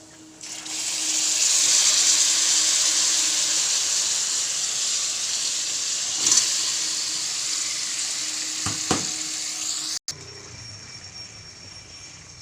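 Raw marinated chicken hits a hot pan of fried ginger, onion and garlic, setting off a loud, steady sizzle that holds for about ten seconds, broken by a few knocks of stirring before the hiss drops away abruptly.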